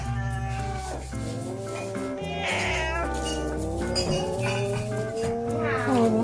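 A cat at a pet-friendly restaurant meows loudly and close by, a long drawn-out cry that rises and wavers, with no one speaking over it.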